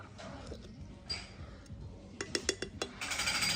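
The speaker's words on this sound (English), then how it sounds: "Stir it up." Spoon stirring pre-boiled rice and corn in a pot, a scatter of light scraping clinks and taps against the pot, growing busier toward the end.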